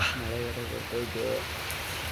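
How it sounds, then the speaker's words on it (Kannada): Heavy rain pours steadily along a dark main road during a long roadside walk near Bethamangala, a constant close hiss with voices talking over it throughout. "ಮಳೆ ಬೇರೆ ಜೋರಾಯಿತು"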